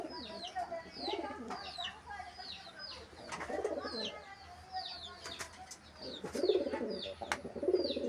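Pigeons kept by a family coo softly and repeatedly close by, with occasional wing flutters and faint background voices.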